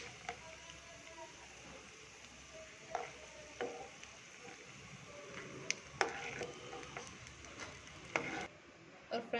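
Peanuts roast in a pan, stirred with scattered crisp ticks and scrapes over a faint steady sizzle, some clicks sharper and louder than others.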